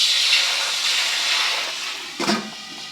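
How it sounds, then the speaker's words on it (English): Water hisses and evaporates as vegetables steam in a lidded pan, a steady close sizzling hiss that fades slightly before a brief rattling bump near the end. "I can hear that the water was evaporating very quickly"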